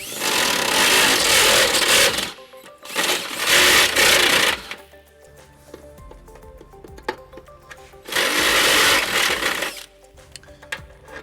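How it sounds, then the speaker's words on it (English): A step bit drills out an access hole in the steel frame of a 2014 Nissan Altima for a trailer hitch, with three loud grinding bursts of a few seconds each separated by pauses filled with quieter clicks and handling noise. "to enlarge that hole, we're going to use our step bit"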